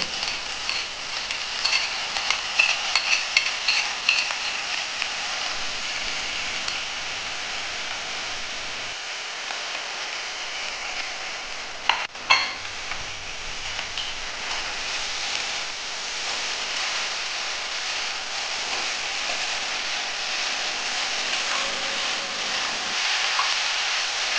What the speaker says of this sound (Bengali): এখন আমি মোচাগুলো কেটে ধুয়ে সেদ্ধ করে রেখেছি হলুদ দিয়ে, সেটা আমি এখন এর মধ্যে দিয়ে দেবো